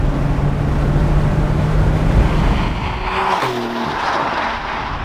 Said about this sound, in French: Toujours un plaisir d'accélérer au volant d'une Porsche 4 roues motrices